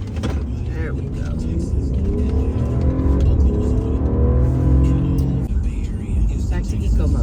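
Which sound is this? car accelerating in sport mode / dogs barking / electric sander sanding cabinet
car accelerating in sport mode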